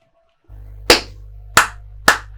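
Three sharp hand claps spaced unevenly over a steady low hum, each crisp and close.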